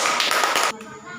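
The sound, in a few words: class clapping hands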